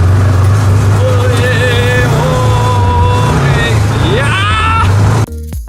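An ATV four-wheeler rides over bumpy ground, its engine droning loud and steady near the microphone with rattling jolts, then it cuts out abruptly near the end; a voice talks briefly over it.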